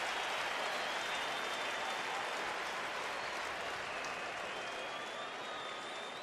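Stadium crowd at a 2014 NFL football game between the 49ers and Broncos, applauding and cheering in a dense, steady roar that fills the whole stretch without letup.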